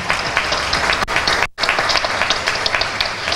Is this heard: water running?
no